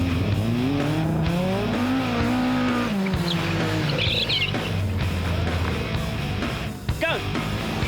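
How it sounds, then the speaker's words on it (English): Race car tyres squeal in long wavering tones as the car is driven hard around a dry auto test course, engine revving beneath, followed by shorter sharp squeals and skids; voices talk over the action. "Most drivers had their tyres squealing for the whole way around."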